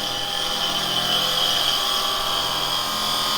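Carbide chisel cutting into spinning wood on a lathe, a loud continuous whirring and hissing scrape held steady for a few seconds, close up and without any talking.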